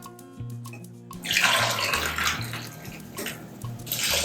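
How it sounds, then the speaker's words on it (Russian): Boiling water poured from a glass onto dry millet, a steady close-up splashing pour that builds after a quiet start and continues without pause. "И теперь нам надо взять стаканчик и залить все это кипяточком."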